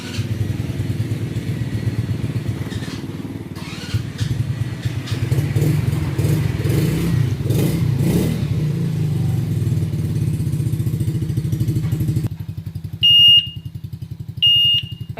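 A motorcycle that has been hard to start is cranked and its engine runs with an uneven, close rumble for several seconds, then cuts out, followed by short electronic beeps.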